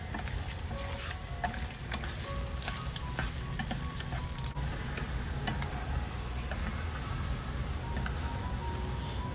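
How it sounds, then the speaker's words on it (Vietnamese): Pork fat cracklings fry in hot oil, stirred with chopsticks, giving a steady dense sizzle with light clicking taps of the chopsticks scattered through it, close and continuous. "Khi rán thì mình sẽ dùng đũa mình sẽ đảo nhẹ tóp mỡ nha các bạn."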